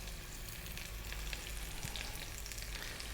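Thick pieces of masala-marinated fish frying slowly in a pan, a dense, even crackling sizzle that holds steady and close for the whole stretch, with no voices.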